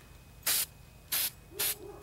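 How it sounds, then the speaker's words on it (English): An aerosol spray can applies light patina onto a glass bottle in three short, even hissing bursts, each about a fifth of a second, close by with quiet pauses between. "And then you just want to lightly spray."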